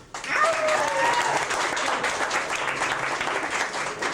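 An audience at a Humane Society of Austin and Travis County event applauds in a steady, dense wash of clapping that lasts throughout, with a faint voice over it.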